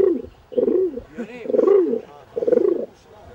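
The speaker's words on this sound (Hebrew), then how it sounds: "יונים." Pigeons or doves cooing close by in three or four soft, rounded, rolling phrases, each rising and falling, with short pauses between.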